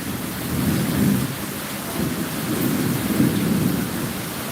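Heavy rain pours steadily in a Tamil village as thunder rolls low and long beneath it, a dense and constant roar with no voices.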